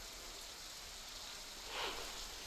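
Heavy monsoon rain in Vasai-Virar, heard as a faint, even wash of hiss with a brief swell of splashing near the end; no voices.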